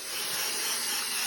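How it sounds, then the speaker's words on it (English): Canned aerosol wall texture sprayed onto a wall for a DIY repair, a loud, steady, close hiss that runs unbroken for just over a second. "go ahead and spray on your final coat that you're going to knock down"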